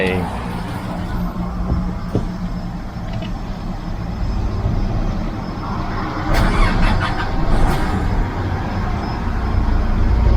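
A 2019 Nissan Navara NP300 2.5 E Black Edition pickup runs with a steady low engine rumble at a showroom, with a brief burst of revving and clatter partway through and people talking over it.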